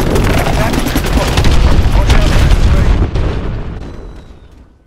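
Loud missile explosions from a futuristic aircraft strike on a hydroelectric dam in Call of Duty: Advanced Warfare roar in a dense, rumbling barrage with crackling bursts, then fade away toward the end.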